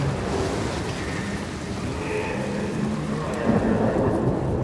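Thunderstorm in the video game Hellblade 2: Senua's Saga, steady heavy rain with deep rolling thunder rumbling throughout, swelling louder near the end.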